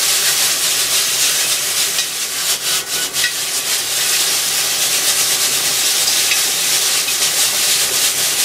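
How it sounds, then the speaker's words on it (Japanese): Yakisoba frying hard over high heat in sesame oil while the pan is tossed, a steady loud sizzle with scraping and rattling, plus brief rustling bursts near the middle, no talk. "とりあえずこれ楽しいんですよね、鍋振るのね、うん、ガンガンやっちゃいましょう。"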